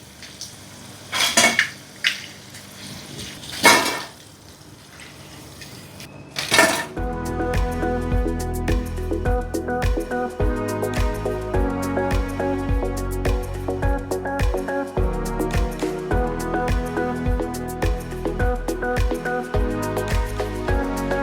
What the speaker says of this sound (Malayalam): ഇനി ബാക്കിയിരിക്കുന്ന മുട്ടയും ഇതുപോലെ തന്നെ ഈ ബാറ്ററിൻ്റെ ധാരാളം മതിയാകും. അതിലിങ്ങനെ മുക്കി വറുത്ത് വരും.